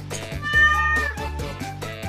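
A single cat gives a long, wavering meow close by, set against light background music.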